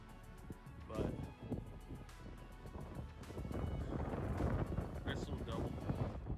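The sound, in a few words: wind blowing outdoors on trap line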